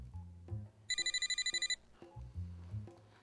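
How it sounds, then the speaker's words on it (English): A telephone bell rings in one burst of rapid, bright trills close by, with quiet room sound before and after. "I've got to get this phone."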